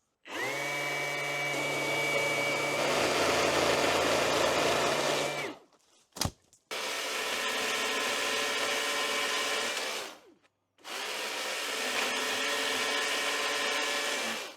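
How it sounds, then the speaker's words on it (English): A Milwaukee Quik-Lok battery pole saw cuts through a thick tree branch, its motor whining loud and steady in three long runs split by brief pauses and a sharp click. "let's fire at the blade and see if we can take down this"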